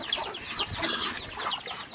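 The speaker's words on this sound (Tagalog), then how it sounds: "So guys, ang kukulit ng mga alaga kong manok ko." Pet chickens cluck and chatter busily while eating feed at a provincial farm, several birds close by in overlapping short calls.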